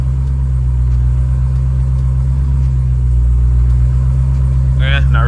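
An AWD Chrysler 170 engine runs in gear with a loud, steady low rumble close by, holding constant throughout while someone talks briefly near the end.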